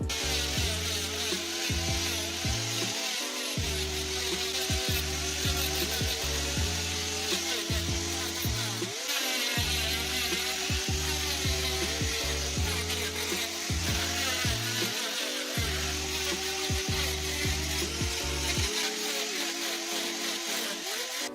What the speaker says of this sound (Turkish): Şimdi gördüğünüz zımpara ile bu kaba yerleri düzleyeceğiz.